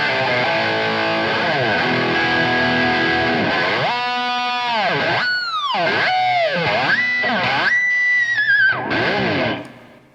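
Kramer electric guitar through a high-output pickup gives a thick, crunchy, hot-rodded distorted tone: sustained chords and bending notes with swooping pitch dives, loud and up close with no talking.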